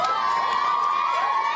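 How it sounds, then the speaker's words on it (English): An excited crowd cheers the Matildas women's football team as they leave their hotel, a dense, continuous wash of high-pitched shouts and whoops held at full volume. "Cheered out of their hotel this morning on Judgment Day."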